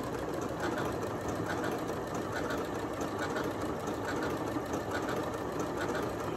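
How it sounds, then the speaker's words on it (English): A Janome Memory Craft MC9450 sewing machine stitches fabric in an overcast stitch, a fast, even mechanical whir with rapid needle ticks, steady and close throughout, with no talk. "I'm going to put my foot down and start stitching."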